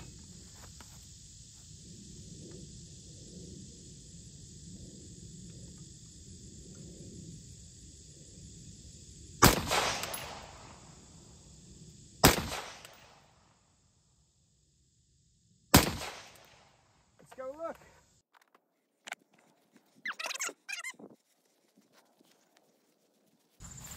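Rifle shots fired at a target while testing a SIG SAUER Romeo 4XT-PRO sight: three loud, sharp cracks spaced a few seconds apart over a low rumble, followed by fainter clicks and handling noises.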